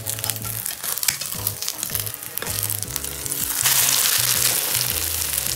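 An omelette sizzles and crackles in hot oil in a home kitchen, close and steady with a rising hiss toward the end, alone without talk.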